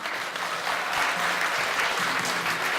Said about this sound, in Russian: Прошу приветствовать ее аплодисментами.